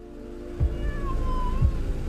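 Cat meowing after being hit by a car, two short plaintive meows spaced about a second apart over a low steady background drone.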